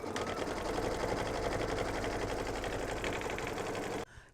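A home embroidery sewing machine stitching a brown tree trunk design, a rapid steady mechanical whir and chatter of the needle running continuously, close and even, stopping abruptly near the end.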